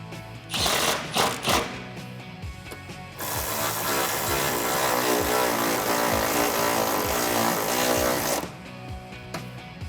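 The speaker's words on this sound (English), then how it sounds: "now I'll tighten down the bolts in our rear hangers" A hand ratchet tightens exhaust hanger bolts on a 2015-2019 Mustang during a cat-back exhaust install: several short clicking bursts, then a long, steady, rapid ratcheting run, close and loud, stopping near the end.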